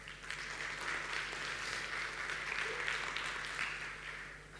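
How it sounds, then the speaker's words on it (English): Applause from a conference audience at a startup event in Istanbul, a steady broadband clatter of many hands that holds for several seconds without pause. "quick round of applause if you have a smartphone"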